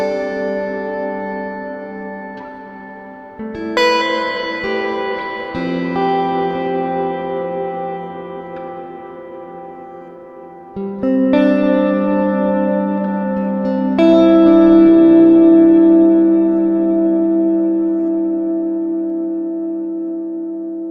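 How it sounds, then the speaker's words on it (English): Electric guitar chords and single notes played through an older plate reverb model in a Helix modeler ring out with a long, shimmering reverb tail, each strum washing into a lingering metallic decay. "here's the old plate reverb."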